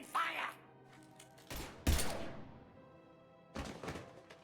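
Gunfire in the Mass Effect 3 video game: three heavy bursts of shots with rumbling decay, spaced a second or two apart. A brief voice is heard near the start.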